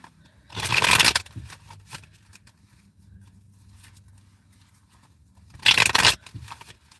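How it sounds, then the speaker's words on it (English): Two short bursts of tarot cards being riffle-shuffled, close and crisp, separated by several seconds of quiet low rumble. "3 more shuffles."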